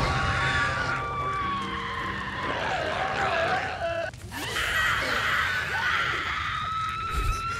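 Creatures in the video game Spore let out shrill, wavering screams and bleat-like cries, loud and close, in a continuous frantic chorus with a short break midway.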